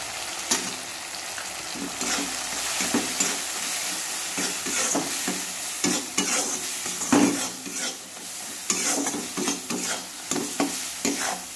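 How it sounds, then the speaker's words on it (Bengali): A steady loud sizzle of spices with salt and turmeric powder frying in a hot pan, with a spoon stirring and scraping in irregular strokes throughout, no voices. "মশলাটা ভাজা হয়ে গেছে"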